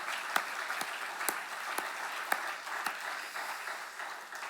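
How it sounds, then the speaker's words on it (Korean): A church congregation gives sparse, fairly quiet applause for teachers, a soft patter of clapping with a few sharper individual claps standing out over about four seconds. "우리 수고하시는 교사님들에게 힘내시라고 격려의 박수 한번 보내시겠습니다"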